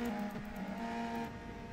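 Steady droning USF2000 race car engines in the iRacing video game at Iowa whine at a constant pitch, a dense overlapping hum of several motors with no talking.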